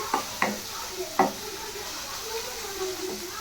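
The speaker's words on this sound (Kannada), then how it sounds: "ಈರುಳ್ಳಿ, ಮೆಣಸಿನ್ಕಾಯಿ, ಕರಿಬೇವು ಇದು ಕೂಡ ಬ್ರೌನಿಷ್ ಬರೋವರೆಗೂ ಫ್ರೈ ಮಾಡ್ಕೊಳ್ಳೋಣ" Onion, green chilli and curry leaves fry in a pan, a soft steady sizzle broken by a few sharp stirring knocks and scrapes near the start, with no talk.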